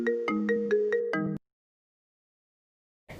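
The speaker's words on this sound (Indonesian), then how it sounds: "sampai suara notif di handphone kalian" A mobile phone notification tone rings out as a quick run of bright, repeated electronic chimes, loud and close, lasting just over a second before silence, with a brief burst of noise at the very end.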